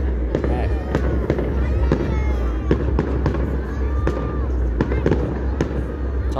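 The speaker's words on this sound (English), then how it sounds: "They've got loads of fireworks at the disposal" Fireworks display at the Runcorn/Widnes event, a steady run of sharp bangs and crackles over several seconds amid a constant low rumble and crowd murmur, with voices chattering throughout.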